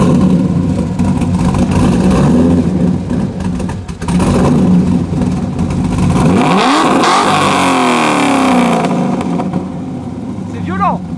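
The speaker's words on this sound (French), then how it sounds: "ça c'est vraiment le V8 américain" A Chevrolet Corvette C6 with an American V8 revs hard and close, a deep rumbling roar rising in pitch, while someone talks over it.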